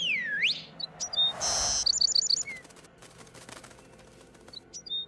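Bird chirps in a French anime, a sweeping whistle-like call and short bright tweets with a burst of wing flaps, set against a quiet outdoor background, with a few faint chirps returning near the end.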